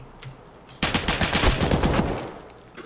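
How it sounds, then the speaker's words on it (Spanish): Rapid automatic gunfire bursts out loud and close in Escape from Tarkov, a dense rattling volley of shots that starts abruptly and runs for about two seconds before tailing off. "Me dispara a mí."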